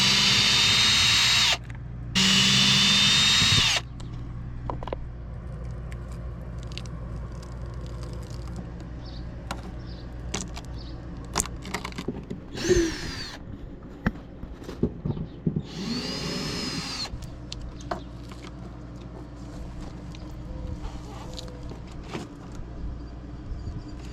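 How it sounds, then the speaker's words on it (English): A power drill backs screws out of an RV water heater during a tankless upgrade, with short loud bursts of motor whine near the start, then quieter clicks, handling and scattered tool noises. "But I'm going to at least get started taking out these screws."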